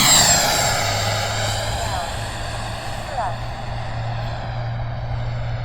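An FMS F86 Sabre 80mm electric ducted-fan RC model jet throttles up for takeoff, its loud, steady whine filling the air with a rising, sweeping tonal pitch outdoors.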